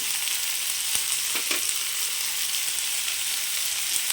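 Curry leaves, cinnamon and cloves frying in hot oil for a mutton curry: a continuous, close, bright sizzle with a few soft pops and stirring clicks, steady from start to end with no talking.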